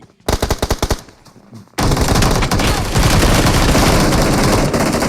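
Gunfire in the video game BGMI: a rapid burst of automatic shots, a brief pause, then loud, sustained machine-gun fire that continues to the end.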